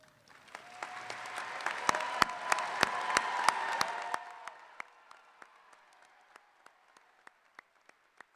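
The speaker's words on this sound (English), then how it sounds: "let us recognize you with a round of applause" A crowd at a community college commencement applauds, building to a full round of clapping that fades out, leaving a few scattered claps at the end.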